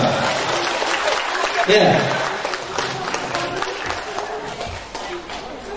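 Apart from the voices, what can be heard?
audience applause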